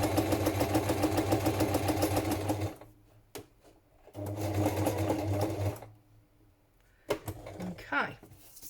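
A sewing machine stitching a line on a fabric journal cover runs loudly in two long bursts with quiet gaps between them and a short clunk near the end.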